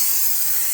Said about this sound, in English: Take some brake parts cleaner.